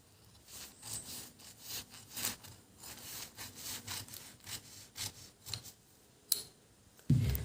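Scissors cut through transparent net fabric, giving a close series of soft, rasping snips in an uneven rhythm, ending with a brief louder knock.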